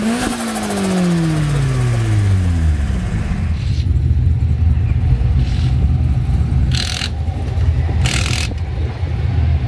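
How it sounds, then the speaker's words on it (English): A drift car at Mission Raceway roars nearby, its engine pitch sweeping downward before settling into a loud sustained rumble, with sharp bursts of turbo hiss or blow-off at intervals. "turbo noises."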